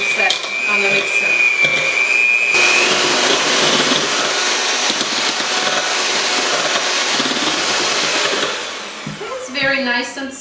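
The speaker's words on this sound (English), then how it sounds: "And once you got them smooshed a little bit more, then you can turn on the higher setting on the mixer." An electric mixer whirs steadily as it mashes bananas for banana bread, a loud continuous motor drone that runs for several seconds before easing off, with a voice talking at the start and end.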